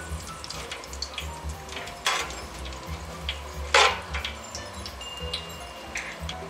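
Garam masala spices frying in a pan while cooking goat meat rezala, a soft steady sizzle with scattered crackles and a couple of brief louder pops, close and fairly quiet, with no talking.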